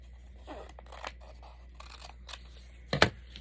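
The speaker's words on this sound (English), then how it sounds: "so I'm just going to use my scissors." Scissors snip through paper in several short, crisp cuts spaced irregularly, ending with a louder final snip, close by with a low steady hum underneath.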